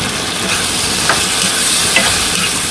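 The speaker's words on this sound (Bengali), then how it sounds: "তারপর ভালো করে কষিয়ে নিই সব কিছু একসাথে।" Fried potatoes tossed and stirred in a hot pan with egg and spices in a village kitchen, giving a steady dense sizzle with soft scraping stirs throughout, fairly loud and close, no voices.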